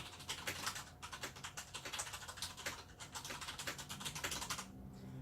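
Typing on an ASUS Strix Flare computer keyboard, a steady run of quick, fairly soft key clicks close to the microphone, continuing for about five seconds with no voices.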